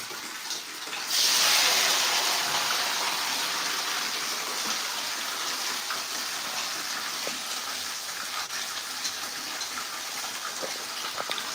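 Water gushing from a village borewell pump in India, a strong steady rushing and splashing flow that starts abruptly and continues loud and unbroken, close by with no talk.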